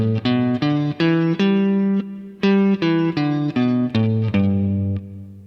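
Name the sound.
guitar playing the 5-tone pentatonic scale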